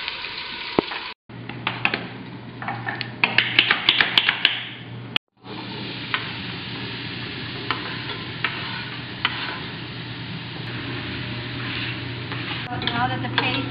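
Bean paste being stirred and sizzling in a hot frying pan, a steady close crackle with scraping spoon strokes, briefly cut out twice near the start.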